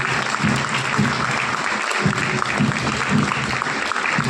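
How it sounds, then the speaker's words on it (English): A round of applause rises from the crowd at an Independence Day celebration on the HAL Bangalore sports field, steady outdoor clapping with a rhythmic thumping under it, moderately loud and spread out. "Let us give a huge round of applause for our masters who made this morning so energetic and lively."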